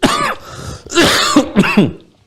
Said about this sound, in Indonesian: Jadi batuk tuh.